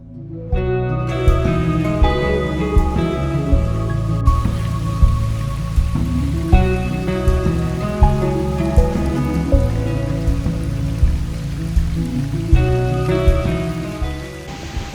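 Steady rain falls throughout on an autumn day at a hillside cottage, a dense continuous patter that is loud and close, with no talking.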